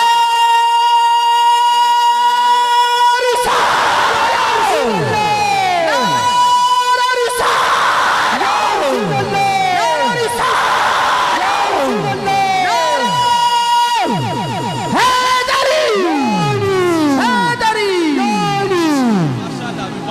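A large crowd at a religious gathering shouts slogans back in loud call-and-response bursts, many voices rising and falling together in sustained chanted waves across the whole stretch.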